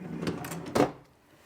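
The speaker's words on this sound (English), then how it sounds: "I almost hate to pull this drawer out." A kitchen drawer is pulled out: a brief sliding rattle, then a sharper knock as it stops, close and alone in a quiet room.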